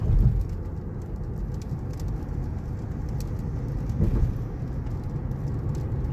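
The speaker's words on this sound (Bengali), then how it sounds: "গাড়ির গ্লাসের মধ্যে টিপ টিপ করে বৃষ্টির ফোঁটা পড়ছে।" Raindrops patter on a car's glass on a rainy night in Al Khobar, a steady soft tapping over a low, even rumble, with no voices.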